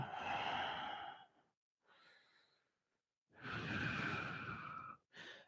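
Long, forceful exhalations during an intermediate vinyasa yoga flow, heard as several breathy rushes close to the listener, with short quiet pauses between them and no talk.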